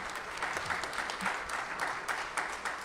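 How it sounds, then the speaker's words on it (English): An audience at a 2023 Mount Vernon NAACP mayoral debate claps in a steady, moderately loud round of applause that fills the room without pause. "when you're clapping, you're stopping them from moving forward, and you're blocking out the sound"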